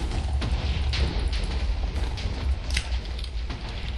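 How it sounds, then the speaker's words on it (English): Rapid, continuous TNT explosions in a Minecraft PvP match, a dense rumbling barrage of booms with sharper cracks scattered throughout and no talk over it. "That is a lot of TNT explosions."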